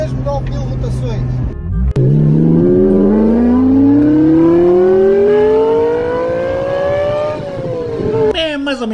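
A car engine winds up in one long, loud, close rev climbing steadily to nearly 9,000 rpm, holding high for several seconds before cutting off abruptly.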